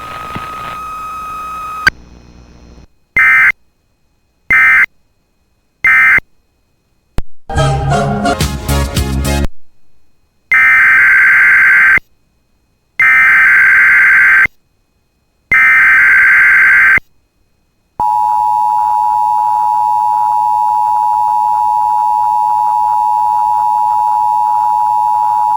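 Emergency Alert System test tones on a NOAA weather radio station of the National Weather Service in Grand Forks, North Dakota: loud electronic beeps, a harsh burst of warbling data noise, four evenly spaced two-tone blasts, then a long steady single-pitched alert tone.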